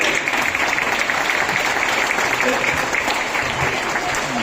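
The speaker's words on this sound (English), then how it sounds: "Double round of applause." After a medieval martial arts sword-fighting bout, the audience breaks into loud, continuous applause that holds at an even level throughout, with no voices standing out.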